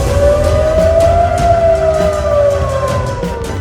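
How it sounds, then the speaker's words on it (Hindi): An air raid siren wails loud and steady in South Korea, its tone rising then slowly falling across a continuous, unbroken blare. "दक्षिण कोरिया में सारी रात सायरन बजता रहा।"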